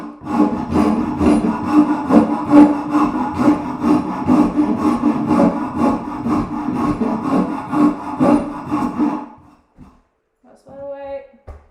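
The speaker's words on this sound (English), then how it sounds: "I'll keep that up, but I'll rasp that down." A rasp files steadily across a wood carving clamped in a vise, making rhythmic, close, scratchy strokes for about nine seconds before stopping, with a few faint knocks afterward.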